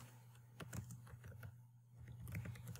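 Quiet keystrokes of someone typing Java code on a computer keyboard, short irregular bursts of clicks with a pause midway, close and soft over a low hum.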